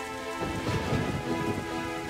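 Steady rain patters and hisses continuously while low thunder rumbles underneath, a dense, even wash of storm noise in an animated drama, with no voices.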